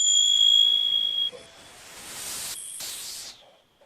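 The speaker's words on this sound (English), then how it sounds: "I'm just going to ring the bell just to start, and I'll ring the bell to finish" A meditation bell is struck once to open the practice, a clear ringing tone that sustains and fades over about a second, followed by soft hissing noise.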